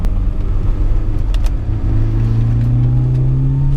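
A BMW M3 E30 engine heard from inside the car on a twisty road, a loud continuous rumble that climbs steadily in pitch as it revs, with no talking.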